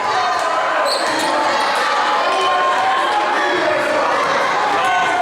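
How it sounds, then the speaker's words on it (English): A gym crowd cheers and shouts steadily at a high-school boys volleyball semifinal, with ball bounces and a commentator's voice over the continuous noise. "And the crowd is feeling it"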